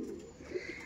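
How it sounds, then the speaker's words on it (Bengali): Kalasobuj pigeons in a loft give a soft, low coo that swells briefly in the middle of the short moment, close by and fairly quiet, with a faint hum of the space around them. "দেখুন পায়রা দেখুন, প্রবীরদার কাছে পিয়ার দেখাতে গিয়ে"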